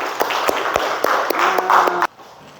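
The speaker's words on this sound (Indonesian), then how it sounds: "Iya, kasih aplaus dulu" A classroom of students applauds together, a steady wash of many hands clapping close by with a few sharp individual claps standing out, then cutting off abruptly near the end.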